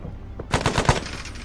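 A short burst of heavy .50-calibre machine-gun fire in a military shooter, about five quick, loud, even shots in half a second, with a fading tail and a quiet backdrop before and after.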